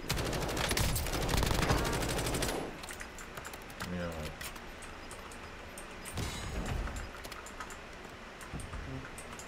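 Gunfire in a video game: a loud, rapid burst of automatic shots up front, then scattered quieter shots and clicks mixed with game noise.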